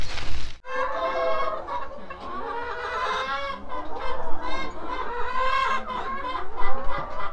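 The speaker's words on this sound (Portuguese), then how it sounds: "As galinhas tudo, tá tudo cheio de comida" A flock of chickens on a farm clucking and squawking loudly and close, with overlapping calls throughout and no voices.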